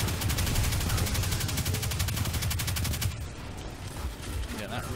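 Rapid automatic gunfire in the video game Destiny 2, a loud, dense burst of shots that cuts out partway through and leaves a quieter mix of game effects.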